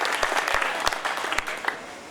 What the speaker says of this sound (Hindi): जोरदार ताली मूसा साहब के लिए।